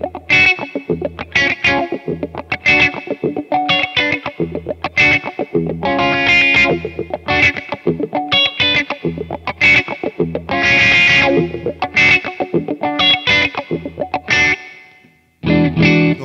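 Clean electric guitar played through a Dunlop Cry Baby Junior wah pedal on the middle pickup into a Katana amp, a run of loud plucked notes and chords with sweeping vocal-like wah tone, ringing out before fading at the end.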